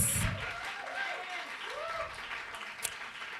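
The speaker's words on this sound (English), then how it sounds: "Let's give it a thunderous round of applause" A crowd applauds steadily and loudly, with whistles and scattered voices rising over the clapping.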